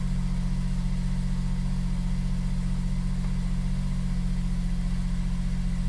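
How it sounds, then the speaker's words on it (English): A Smart Fortwo engine idles steadily, a low constant rumble with a smooth, even hum and no changes in pace, close by and alone. "it sounds like it's running really quite well"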